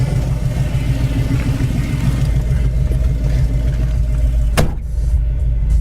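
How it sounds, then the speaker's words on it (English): A red 1972 Chevy Nova idles in hot, humid weather, a loud, steady, low rumble that holds throughout, broken near the end by a single brief click. "Car's been running here."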